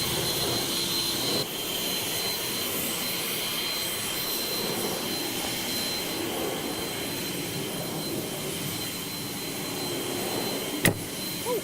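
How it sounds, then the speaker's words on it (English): An Ego cordless blower drives a loud, steady rushing stream of air up close while drying a freshly washed car, holding almost unchanged from start to finish with a brief knock near the end. "And then we have our Ego blower."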